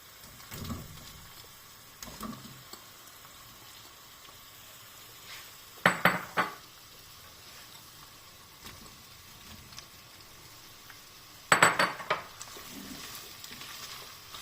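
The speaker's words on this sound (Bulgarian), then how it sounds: "Добавяме месото и колбасите и продължаваме да задушаваме." Meat and sausages stewing in a pot for solyanka, a quiet low bubbling broken by a few sharp clinks and scrapes of a utensil against the pot.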